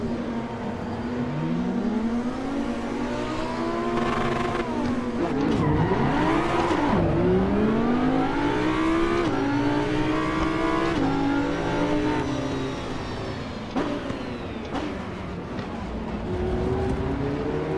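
An Audi LMS GT4 race car engine in Assetto Corsa EVO revs up and down through repeated gear changes, with climbing pitch sweeps and brief dips while braking. The engine is steady and prominent, with no talk over it.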